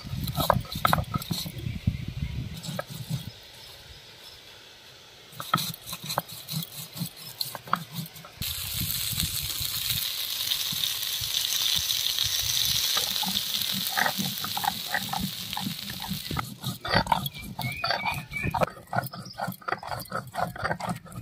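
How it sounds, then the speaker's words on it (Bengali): Chilies, cumin and ginger ground together on a grinding stone: rough, rhythmic scraping and rolling strokes, close and moderately loud, with a voice speaking at times over the grinding. "এরপর আমি বেটে নেব লঙ্কা।"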